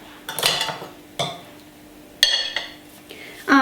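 Cake base set onto a plate with a metal ring form in a kitchen, several sharp clinks and knocks of metal and crockery at uneven intervals, close and fairly loud.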